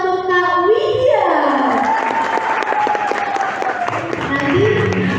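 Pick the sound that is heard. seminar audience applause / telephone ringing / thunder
seminar audience applause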